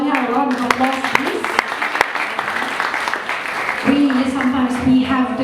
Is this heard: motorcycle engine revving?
no